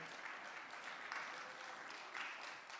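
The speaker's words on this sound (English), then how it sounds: "she can't hear you applauding, but we'll let her know we applauded for her today" An audience applauds with steady, dense clapping that holds evenly for the whole stretch, sounding fairly distant and soft, with no one speaking over it.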